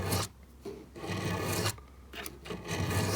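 Metal file rasping across the fret tops of a Harmony H180 acoustic guitar, several close, loud back-and-forth strokes separated by brief pauses.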